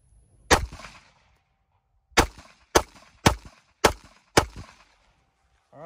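Five sharp gunshots from a .30 Super Carry pistol fired outdoors at a meat target, one shot followed after a pause by four more in quick, uneven succession, each loud and close with a short ringing decay.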